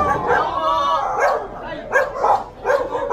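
A dog barking back from inside a property in a littered neighborhood, several short barks in quick bursts near the listener, mixed with people calling out and talking.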